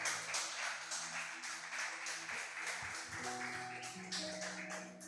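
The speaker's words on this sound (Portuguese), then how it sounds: "As palmas louvam ao Senhor." A church congregation claps along in praise, a steady broadband patter filling the space for several seconds while low sustained tones, likely instruments or voices, rise underneath.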